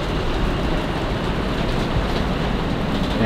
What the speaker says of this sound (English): absolutely raining outside